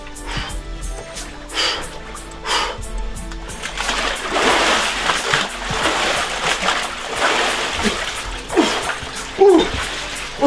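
Winter swimmers plunge into an icy outdoor pool, with splashing and sloshing water building into a steady wash, broken by breathy gasps and snorts as they dunk.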